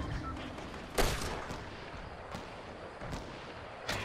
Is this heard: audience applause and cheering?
no